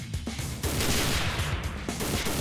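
Gunfire from the video game Banzai Escape, a steady stream of close, loud shots piling into a dense continuous barrage that runs the whole moment without a pause.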